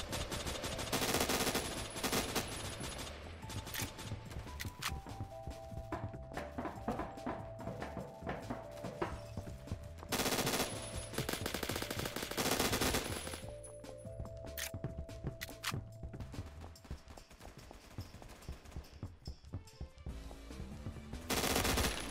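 Sustained automatic fire from a G36C rifle in the Roblox shooter Phantom Forces, loud and dense bursts of rapid shots running almost continuously with brief lulls, the gunfire standing alone without talk.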